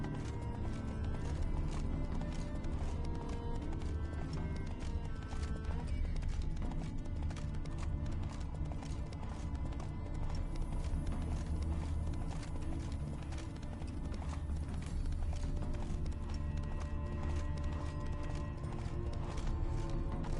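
Steady clip-clopping hooves with occasional horse whinnies over a dense, continuous soundscape in The Witcher 3.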